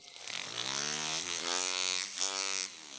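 A foot-pedal rotary tool motor runs at low speed in a jewelry workshop, its steady electric whine and hum close and continuous, rising slightly in pitch midway.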